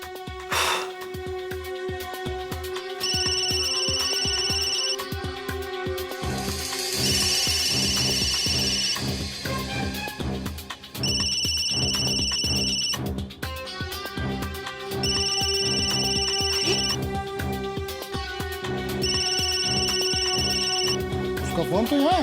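A mobile phone ringtone in a Hindi TV drama serial, a bright electronic melody repeating in regular bursts over a bed of background music.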